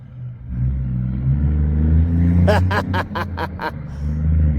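A 1979-model diesel motor idling with a deep steady rumble, then revving hard in a rapid burst of throttle blips before settling back, loud and close, with people talking in the background.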